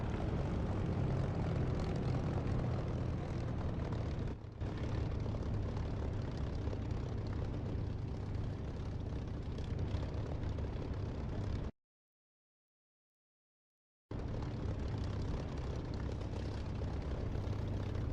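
A simulated propeller aircraft engine drones loudly and steadily during takeoff in a flight sim, broken by a short total dropout of sound before the engine noise resumes.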